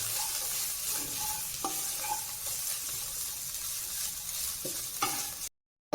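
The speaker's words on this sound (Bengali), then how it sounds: "কিছুটা পরিমাণ কাশ্মীরি মির্চ অ্যাড করলাম, দিয়ে ভালো করে নাড়তে হবে।" Chicken stirred in a pan with black pepper and Kashmiri chili, a steady low sizzle with a few sharp utensil scrapes and clinks, ending in abrupt silence.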